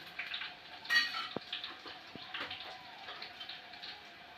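Garlic browning in a pan gives a faint, steady low sizzle with a few light clicks and taps of utensils, quiet and close with no one speaking.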